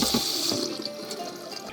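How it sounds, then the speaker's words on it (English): Water running from a cold kitchen tap while raw beef is rinsed under it, a steady close splashing gush that continues throughout with no voices. "lightly rinse the beef under cold water and pat it dry with paper towel"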